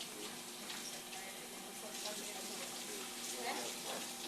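A sponge is rinsed under running tap water at a pottery glazing station, with a steady close hiss of flowing water and uneven splashing changes as the sponge is worked through the stream.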